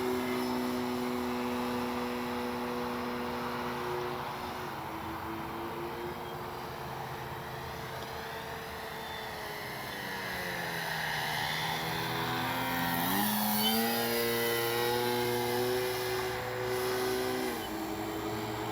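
A Great Planes Ryan STA radio-controlled model airplane flies an afternoon flight, its engine a steady moderate drone that rises and falls in pitch as it passes, without talk.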